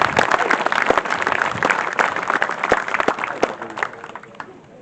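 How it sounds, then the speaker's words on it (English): Crowd applauds the blue-shirted event staff, 206 volunteers at a charity event, with dense clapping filling most of the stretch before thinning and fading out near the end. "Big round of applause for the blue shirts today."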